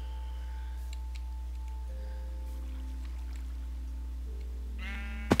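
A sheep bleats in the video game Minecraft, with one short, clear bleat near the end over steady background music.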